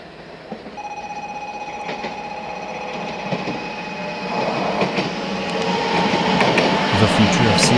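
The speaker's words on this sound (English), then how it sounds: "This Shinkansen is series 500." A Shinkansen Series 500 bullet train with a shaped nose and rounded body passes, its broad roar swelling steadily louder, with steady whining tones over a rushing wash.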